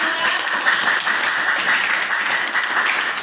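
A steady wash of applause from a group, likely students in an Islamic religious-education class session, fills the room continuously and fairly loudly with no pauses.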